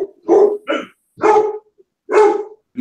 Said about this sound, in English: I've got Vampire bark